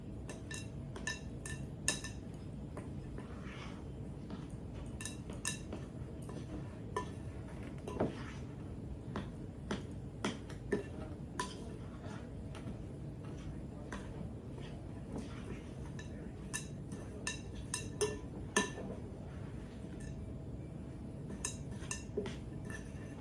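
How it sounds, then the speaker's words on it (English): A spoon stirs chopped raw apples into a thick apple bread batter, knocking against the bowl in quick irregular clinks and taps over a quiet kitchen background. "you're going to mix that all together until everything is nice and blended up"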